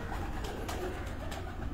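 A pigeon cooing at a home loft in Gujrat, a low soft call steady under constant room and outdoor noise.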